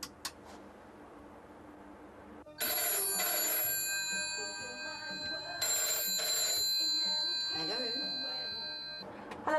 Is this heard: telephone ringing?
yes